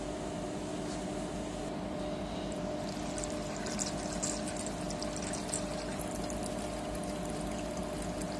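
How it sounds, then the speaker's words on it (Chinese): Cleaning solvent pours steadily into a printer's ink system, a continuous close liquid rush over a low mechanical hum, with no voices. "然后我们向这里面加溶剂，加清洗剂。"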